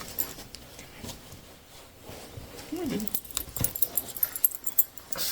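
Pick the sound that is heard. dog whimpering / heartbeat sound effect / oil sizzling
dog whimpering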